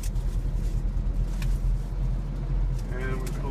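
Beiben truck with a ZF AS-Tronic gearbox, its engine rumbling steadily as the gas pedal is pressed lightly, a dense low drone close by that holds throughout, with people talking over it.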